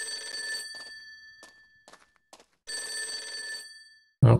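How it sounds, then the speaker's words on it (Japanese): A telephone rings at an inn in Persona 4 Golden, two bursts of bright electronic ringing separated by a quiet gap with a few soft thunks between them, ending with a short low thump. "電話が鳴っている。"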